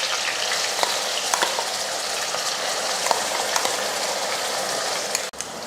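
Ground onion paste fries in hot oil with curry leaves in a pan, giving a loud, continuous sizzle close by with occasional crackles and stirring scrapes, and no voices.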